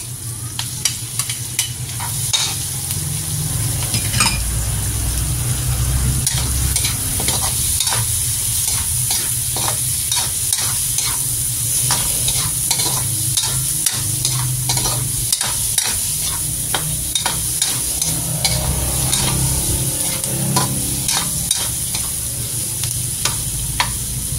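Shrimp sautéing in a pan for menudong gulay, a steady loud sizzle with repeated stirring scrapes and clicks throughout.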